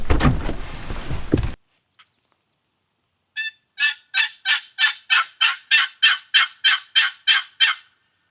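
A wild mountain gobbler turkey answers after a burst of rough close noise and a short quiet gap, giving a loud, regular run of about a dozen evenly spaced rattling calls with no talking.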